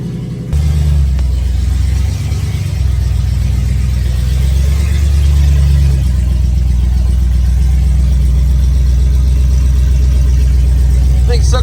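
Camaro engine firing up and then running, a loud deep rumbling idle with a steady throbbing drone after a brief start, close by.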